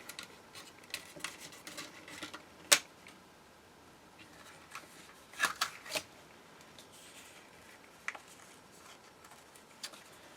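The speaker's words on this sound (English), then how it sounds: "So just going to put the brads through the paper first." Metal brads are pushed through paper while a desk calendar is assembled, producing soft scattered rustles and a few sharp crisp pops at close range in an otherwise quiet room.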